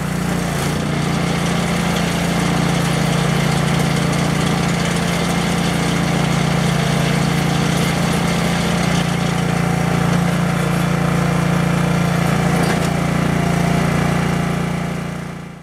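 A snowblower engine runs at a steady, loud idle with a constant low drone that continues throughout and then fades slightly at the end.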